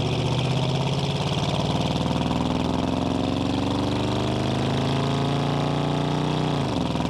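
A 1987 Chevrolet K10 Silverado with a 350 V8 engine revs steadily upward through a gear as it is driven, the engine note climbing continuously and dropping briefly at a shift near the end, loud and close with no talking.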